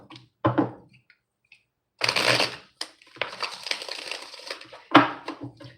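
A deck of tarot cards is shuffled close up by hand, giving several bursts of crisp riffling and crackling paper snaps separated by short pauses, the longest burst running a couple of seconds.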